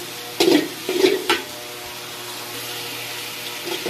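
Onions frying in a pan on raised heat for Eid khichuri, a low steady sizzle broken by three quick scraping stirs near the start, no talk.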